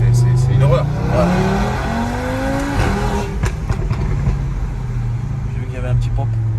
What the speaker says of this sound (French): Même le bruit du 5 cylindres